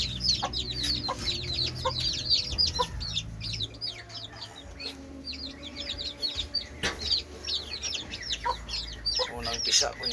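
Backyard hens clucking around a mother hen of SBR breed with her first brood of newly hatched chicks, soft continuous clucks mixed with high, busy chick peeps throughout, close by on a farm.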